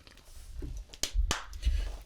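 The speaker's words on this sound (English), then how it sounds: "You want me to clap and get it going?" Two sharp hand claps, close and crisp, about a quarter second apart, over a quiet room hum.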